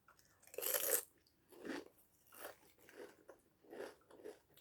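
Crunchy store-bought potato chips being eaten up close, a series of about six crisp bites and chews in an uneven rhythm, quiet and alone.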